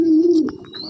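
A single soft, throaty coo from a breeding pigeon in a loft, close and clear, fading into brief quiet.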